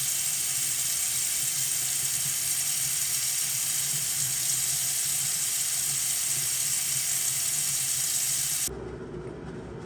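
A bathroom sink tap runs brown water in a loud, steady rushing stream close by, then cuts off abruptly near the end, leaving a faint residual hiss.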